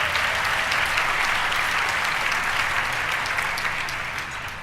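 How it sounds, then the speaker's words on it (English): A crowd at a community event gives a round of applause, dense steady clapping throughout that gradually fades slightly at the end. "Round of applause for these brothers."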